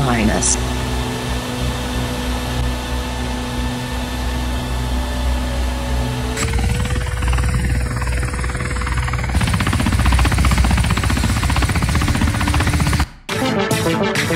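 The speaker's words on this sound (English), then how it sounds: "Call the rescue chopper." A cartoon rescue helicopter flies with a loud steady rotor drone and engine whine. Its pitch shifts midway as the sound grows busier, then it cuts off abruptly near the end with a few sharp bursts.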